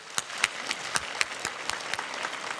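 Applause from a church congregation during a special dawn revival service, a burst of scattered, sharp handclaps that stays moderately loud without talk.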